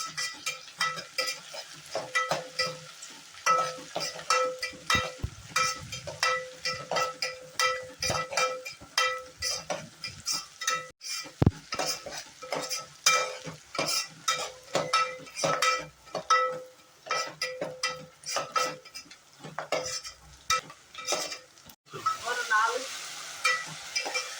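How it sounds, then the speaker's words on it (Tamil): Onions and curry leaves sautéing in a pan for a fish curry, with a continuous sizzle broken by rapid, rhythmic scraping and clinking of a spoon against the pan, close and busy throughout. "வெங்காயம் நல்லா வதங்கணும்."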